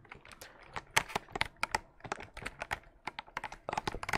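Fast typing on a mechanical keyboard fitted with Akko Cream V3 Blue tactile switches and keycaps made with osu! players, a close, crisp flurry of irregular clacks alone in quiet.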